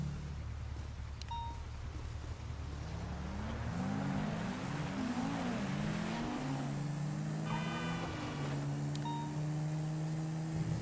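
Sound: ATV driving

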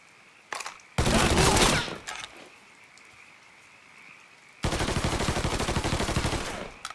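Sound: gunfire from Mafia III video game

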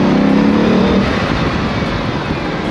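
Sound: Bugatti car engine accelerating, roof open

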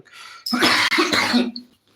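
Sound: cough

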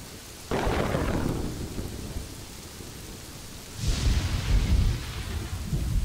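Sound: thunderstorm in the video game Kingdoms and Castles

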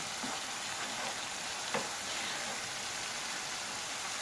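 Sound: onions frying in a pan

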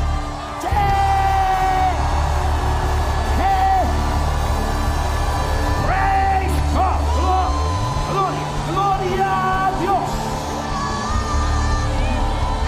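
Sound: congregation shouting

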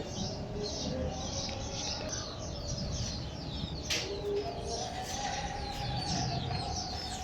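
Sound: pigeons and birds in a rooftop aviary

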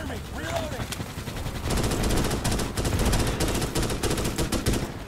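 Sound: gunfire in the video game Starship Troopers: Extermination

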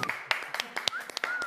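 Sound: audience clapping

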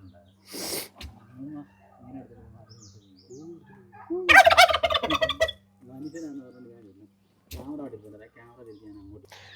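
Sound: turkey gobbling

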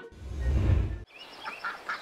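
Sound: ducks quacking on a pond

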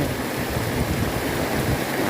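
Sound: heavy rain pouring down

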